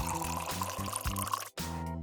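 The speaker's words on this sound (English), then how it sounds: "Pour boiling water over them." Boiling water is poured over lemon peel spirals hung on a string, a steady close splashing pour over a musical background that breaks off briefly, then resumes.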